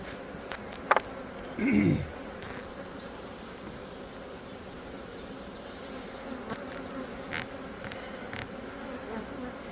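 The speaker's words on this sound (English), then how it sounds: "Bursting at the seams with bees." Honey bees fill a crowded hive opened for inspection, a steady low buzzing drone running throughout with a few brief handling knocks and a louder burst near the start.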